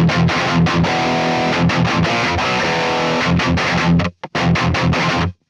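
Heavily distorted electric guitar through a Neural DSP Mesa Boogie Mark IIC+ amp plugin, loud chugging palm-muted riff with dense saturated chords, a brief cut near the end, then a final burst, close and alone.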